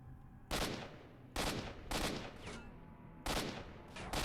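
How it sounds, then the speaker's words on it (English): Gunfire in the STALKER shooter game, heard as a few loud, sharp broadband bursts spaced irregularly over a steady low background hum, with no voices. "This man is shooting me sideways."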